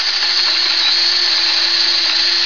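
Power drill countersinking a bolt hole in a wooden picnic table, a loud, close, continuous high whine held steadily without a break.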